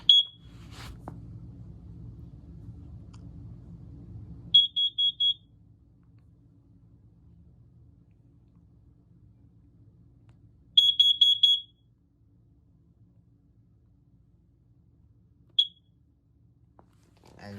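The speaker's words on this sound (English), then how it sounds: "And one more Kitty carbon monoxide detector." A Kidde carbon monoxide detector under test sends out a near, shrill high-pitched alarm in short bursts of rapid beeps, with quiet gaps between and a low hum at the start.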